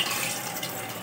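Dried lentils (dal) tumble into a pan of hot water on the stove, a brief, close, steady wash of splashing and pouring.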